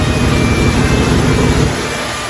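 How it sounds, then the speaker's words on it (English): A Rolls-Royce Silver Spur engine idles with a slight timing fault and occasional popping, a loud, steady, close rumble that eases slightly near the end, no talking. "As long as I've owned it, has never idled like this."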